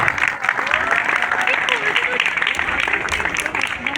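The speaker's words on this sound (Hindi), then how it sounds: "खतीजा फवाद के लिए भी तालियां बजा दें भाई" An audience applauds at a college medal ceremony, continuous clapping at moderate volume running under a voice speaking over the crowd.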